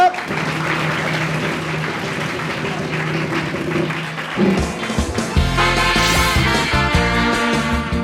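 A crowd applauds steadily for several seconds, with music and a voice mixed in under and after the clapping.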